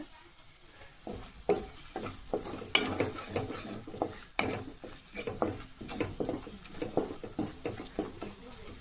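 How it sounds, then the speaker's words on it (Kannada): Chilli powder and garam masala frying in oil for dal, with steady sizzling and a spoon stirring and scraping the pan in frequent clattering strokes, close and fairly loud throughout. "ಇವಾಗ ಇದನ್ನು ಎಣ್ಣೆಯಲ್ಲಿ ಚೆನ್ನಾಗಿ ಫ್ರೈ ಮಾಡ್ಕೋಬೇಕು"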